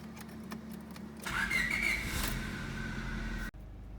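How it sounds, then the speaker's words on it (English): A 1998 Honda Civic engine turns over and settles into a steady idle to warm up, with a brief starter burst followed by an even running hum, close and fairly quiet, no talking. "we're going to turn the car on to warm up the engine"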